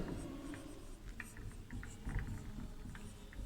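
Chalk or marker scratches across a board during a Sanskrit class, a few faint, quick strokes over a low room hum, close but quiet.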